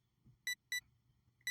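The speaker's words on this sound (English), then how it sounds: "That alarm?" Three short, sharp electronic beeps from a fire alarm sound at uneven intervals, shrill and clear over a faint low hum.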